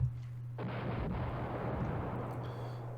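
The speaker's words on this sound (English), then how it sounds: "There's some artillery fire here" Artillery fire in the wargame Command Ops 2: a dense, sustained rumbling barrage that kicks in after a brief hum and keeps rolling loudly throughout, with no voices over it.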